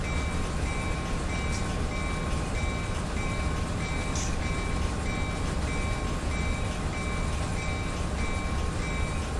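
A freight train locomotive hauling up a grade in Run 8 Train Simulator, a steady loud low rumble and drone of the engine with faint tonal whine, continuous and unchanging throughout.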